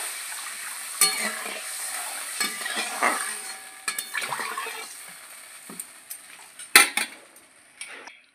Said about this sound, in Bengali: মশলাটা ভালো করে কষানো হয়ে গেছে, এখন আমি পরিমাণ মতন জল দিয়ে দেবো।